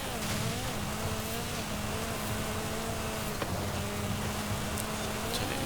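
A 2020 Hyundai i30 N with all-wheel drive and more than twice its stock power accelerates in Forza Horizon 5, a continuous buzzing engine whine climbing through gears, steady and loud throughout.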